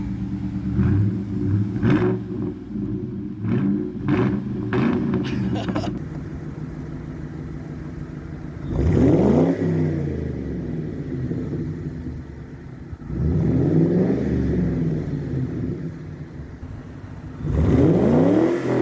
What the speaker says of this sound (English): This car sounds pretty good though.